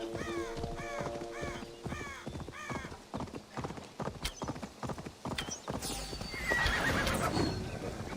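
A horse in Assassin's Creed Valhalla whinnies several times, then its hooves clip-clop in a quick, close rhythm. Crows caw in the background, and the scene ends in a louder rush of ambient noise.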